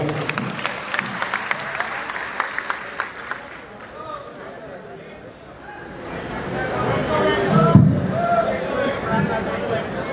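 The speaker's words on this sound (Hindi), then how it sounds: "भाई जोरदार तालियां बजाकर स्वागत करें।" Applause from a crowd at a political rally, rapid clapping early on that fades, then rising crowd noise and chatter with people talking.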